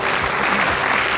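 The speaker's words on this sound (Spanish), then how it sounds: "aplauso para Iván" Audience applause for Iván at an awards presentation, a brief, dense wash of clapping heard alone.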